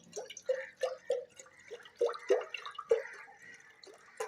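Water poured from a glass into a pot for boiling sweet potatoes, about one and a half glasses, heard as a run of close, bright splashes and drips in uneven bursts, with no talking.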